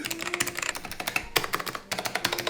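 A vintage keyboard fitted with Alps switches is typed on close up, producing a rapid, uneven run of crisp clacky keystrokes with a brief pause partway through and no voices.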